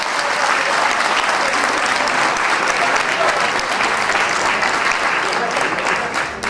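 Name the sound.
audience applauding a folk ensemble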